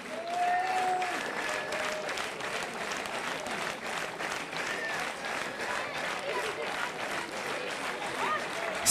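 Sustained crowd clapping fills the stands at the SK Líšeň versus SK Slavia Praha legends football match, a thick, even roar of applause with a voice talking over it.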